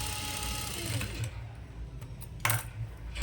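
A sewing machine runs a fast, even stitch on a chudi pant pocket for about a second and a half. It stops, then gives a short second burst near the end, heard close with no talking.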